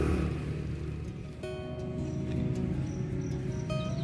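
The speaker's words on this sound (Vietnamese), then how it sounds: "mình nghe trong đây có dế gáy nè" A few faint, high field cricket chirps come in short bursts over a low, steady outdoor rumble.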